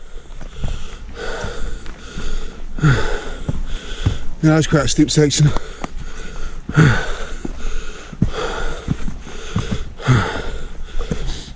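Heavy, rasping breaths and sniffs from a hiker climbing a steep hill, coming in a steady rhythm close to the microphone, with someone speaking briefly between breaths.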